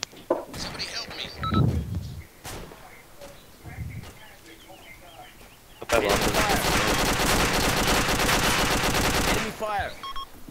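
Automatic gunfire in the military shooter game Arma II, sustained bursts of rapid shots from about six to nine seconds, loud and dense, with scattered shots and voices talking earlier in the clip.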